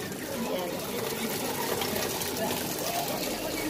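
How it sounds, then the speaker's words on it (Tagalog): Water flows into a washing machine during laundry, a steady gushing and trickling rush heard close by, continuous for a few seconds. "Para lumabas yung tubig."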